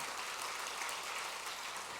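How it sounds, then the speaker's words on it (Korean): A church congregation applauding during a Sunday service: dense, even clapping from many people that fills the room, sustained at a steady level for the whole short stretch with no voices on top. "박수해야지요."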